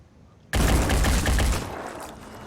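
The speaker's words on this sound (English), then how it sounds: "We got machine gun and shield." Sudden loud burst of sustained automatic fire from a machine gun in the video game Phoenix Point, dense and continuous for about a second, then easing into a lingering rumble.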